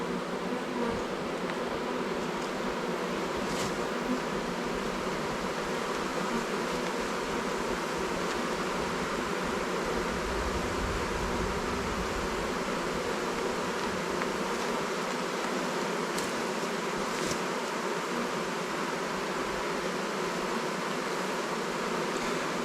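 A honeybee hive with no queen and a drone-laying worker produces a dense, continuous buzzing, heard up close and steady throughout, with a few faint rustles and no talking.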